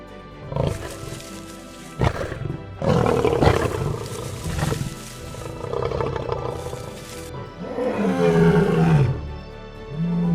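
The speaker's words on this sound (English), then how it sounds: "The thunder of a prime male lion's roar ranks among the most commanding sounds on the African savannah" A prime male lion roars on the African savannah, a deep, rumbling sequence of roars and grunts building in several loud bursts, close and dominant.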